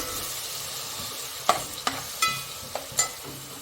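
Ginger, garlic and green coriander paste fries in a pan with browned onion and chilli, giving a soft sizzle broken by a handful of sharp spoon scrapes and clicks.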